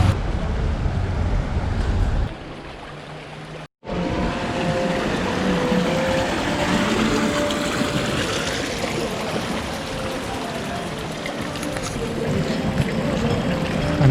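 Water splashes continuously from the Simsonbrunnen, a 16th-century fountain in Bern, a steady broadband rush heard close and alone, with a brief dropout partway through.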